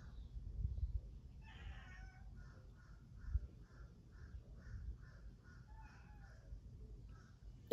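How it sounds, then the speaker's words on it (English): A house cat meows repeatedly in a rhythmic series of short, fairly faint calls over a low background rumble. "it's the cat."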